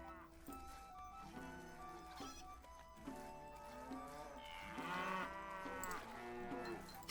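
Cattle lowing around dairy farms in the strategy game Stronghold HD, several drawn-out moos overlapping across the clip, moderately close, with a steady game ambience underneath.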